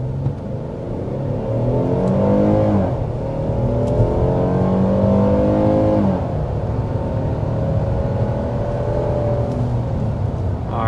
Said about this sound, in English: we need to start with that hard acceleration.